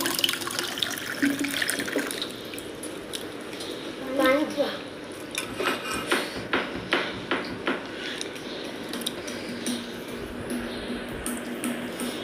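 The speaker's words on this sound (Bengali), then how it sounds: "তো এইখানে আমি পানি ঢেলে নিচ্ছিলাম" Drinking water is poured at home, a trickling splash that rises around the middle then breaks into a run of short gurgles and drips, faint and close, with talking over it.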